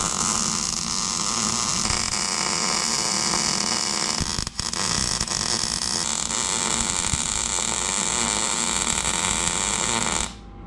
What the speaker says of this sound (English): so I'm gonna weld it over here.